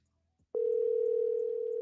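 A telephone dial tone begins abruptly after a brief silence and holds as a steady, loud, unbroken hum while a call is being placed, with no voices over it.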